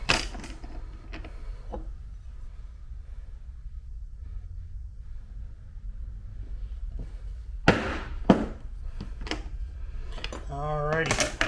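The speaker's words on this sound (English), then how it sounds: "So I'm using a round punch." A round leather punch strikes a leather strap for a Lewis and Clark style backpack, landing two or three sharp, close mallet blows against a quiet workshop background.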